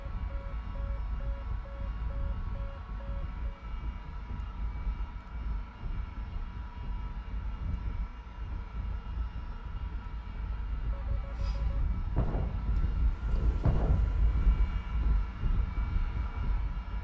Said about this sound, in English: it's just a plane I was looking at